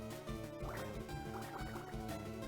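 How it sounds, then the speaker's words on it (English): Water Gun attack effect in Pokemon Fire Red, a continuous watery gurgling, dripping burst with retro game music underneath, steady and loud for its short length. "We have been water gunned."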